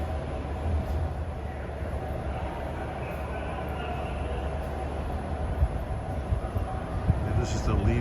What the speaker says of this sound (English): this is the leaf train that they use to clean the leaves off